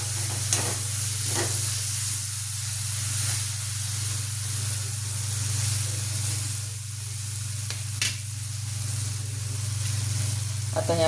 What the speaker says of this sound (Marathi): आता याच्यात घातली मुगाची डाळ, ती चांगली मसाल्यात परतून घ्यायची